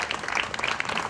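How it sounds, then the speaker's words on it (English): A rally crowd outdoors claps in a brief, fairly faint burst of applause, scattered hand claps blending together. "Give yourself a round of applause."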